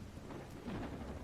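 Rain falls steadily outdoors in the video game Call of the Elder Gods, with low rumbling thunder rolling beneath it, a soft, brief wash of storm ambience.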